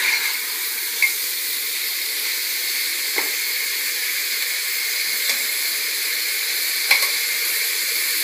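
Mutton pieces frying with onion in a pot for a mutton stew, with a steady, bright, hissing sizzle throughout and a few faint taps from stirring.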